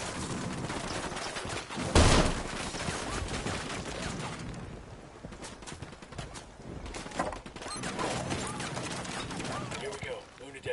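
Units firing on a cartel in a PS4 shooter, rapid bursts of gunfire with one loud blast early on and sustained crackling volleys later, mixed with talk.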